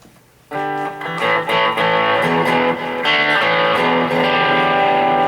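A Firefly hollow body electric guitar with a distorted basic rock tone plays a loud, sustained chord progression, starting after a brief quiet moment and ringing on with rhythmic strums.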